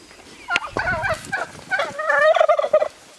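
Royal Palm and Blue Slate heritage turkeys gobble loudly and close by, a burst of rapid, warbling calls tumbling over one another.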